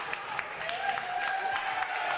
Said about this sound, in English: her first basket, and she gets a nice applause